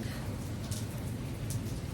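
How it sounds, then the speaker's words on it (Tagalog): Heavy rain pours without a break, a steady dense wash of hiss over a low rumble that holds an even level throughout, with no voices. "Dahil nga sa tuloy-tuloy yung pagbuhos ng ulan guys, hindi ko ginamit yung motor."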